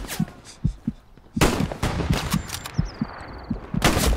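Sten gun fire from the video game Hell Let Loose comes as sharp separate shots and short bursts, loud and close, with echoing game noise between them.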